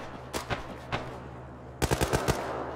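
Gunshots ring out from someone shooting in a military tactical operation: a few scattered single shots, then a quick burst of five or six sharp reports close together, all over steady background noise.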